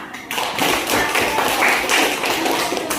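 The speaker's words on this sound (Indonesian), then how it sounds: "Kasih aplaus dulu semua." A classroom of students gives a round of applause: dense, steady clapping that starts abruptly and carries on for about three seconds at a fairly loud level.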